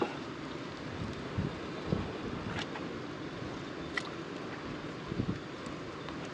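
Steady roar of wind and rain outdoors, with scattered knocks and gusty bumps against the microphone, no voices.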